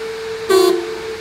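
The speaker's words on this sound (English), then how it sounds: "Oh, horn works, good." A 1959 Triumph TR3 A gives a single short honk of its car horn, a steady buzzy tone about a quarter second long, close and clear against a quiet background hum.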